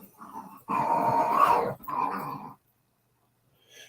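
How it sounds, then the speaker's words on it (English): Indoor dogs make noise in the background, with a couple of drawn-out growling, whining bursts that are fairly close and loud, followed by silence and a faint last sound. "And I got dogs in the background, just being noisy as always."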